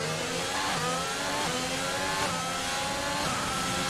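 An F1 car in the F1 2020 game accelerates out of the pits, its high-pitched engine steadily climbing through the revs. The engine sound is continuous and fills the whole stretch with no voices.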